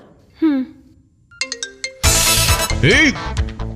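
A phone ringtone plays in short repeated tones, followed by loud, lively talking that overlaps the ringing.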